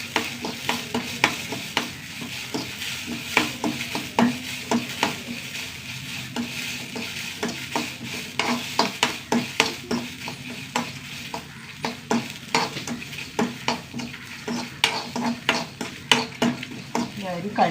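Cumin, fenugreek and dried red chillies roast in a pan, a steady dry sizzle broken by frequent rhythmic scrapes and clicks of a spoon stirring against the metal, close and continuous.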